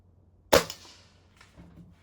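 A single sharp crack from a Norica spring air rifle firing a JTS 25.39 grain pellet into a target, close and loud, then a brief fading tail in a quiet room.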